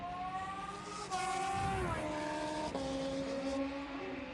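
Suzuki Hayabusa (2002) and Kawasaki ZX14 drag race motorcycles at a drag strip, engines droning loud and steady with rising and falling revs across the run, close and continuous.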